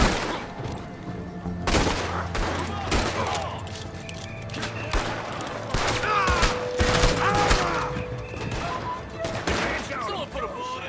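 Gunfire in the Red Dead Redemption 2 video game, a chaotic fusillade of repeated close shots and heavier booms across a noisy battle, with shouting voices mixed in.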